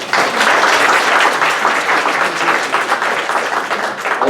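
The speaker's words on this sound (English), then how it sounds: "give him a round of applause" A crowd applauds, with dense, steady clapping from many hands that stays loud for several seconds.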